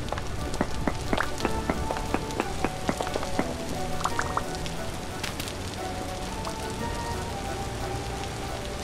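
Steady rain pattering down in the survival game Vintage Story, a continuous even hiss with scattered droplet ticks, joined by layered chiming game tones, with no talking.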